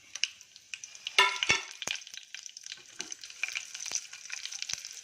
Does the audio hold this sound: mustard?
yes